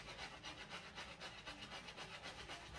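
A soft bristle brush scrubbing the rim of a Yeezy 350 Zebra sneaker during deep cleaning, quick rhythmic back-and-forth strokes in a steady rasping pattern, close and fairly quiet, with no talking.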